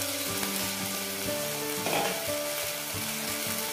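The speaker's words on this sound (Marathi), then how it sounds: "आता आपण यावर झाकण ठेवूया आणि एका साईडने शिजवून घेऊया" A sabudana thalipeeth sizzles on one side in a pan, a steady, close frying hiss that continues without a break and is joined by a faint scrape near the middle.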